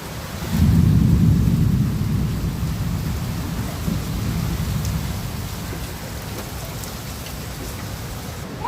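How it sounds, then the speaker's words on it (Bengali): Heavy rain pours steadily with a deep rumble of thunder rolling underneath, loudest early then easing into a constant downpour. "হেভি বৃষ্টি হচ্ছে, পুরো চারিদিক ধোয়া ধোয়া হয়ে গেছে"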